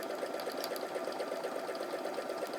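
Domestic sewing machine running steadily through a zigzag bar-tack stitch, a continuous close mechanical whir with fast rhythmic needle clatter, alone without talk.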